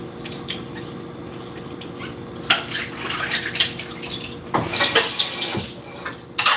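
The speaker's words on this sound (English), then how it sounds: "let me take a shower, quick shower" A quick shower runs as a steady wash of falling water, with louder splashing bursts and surges as the spray shifts, close and continuous throughout.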